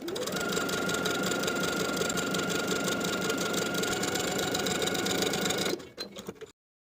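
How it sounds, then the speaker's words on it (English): A sewing machine runs its longest basting stitch straight across a skirt's centre back within the seam allowance, a steady loud mechanical whir that stops abruptly near the end. "Sewing with the longest stitch on your machine from one side of the center back, straight across to the opposite side of the center back"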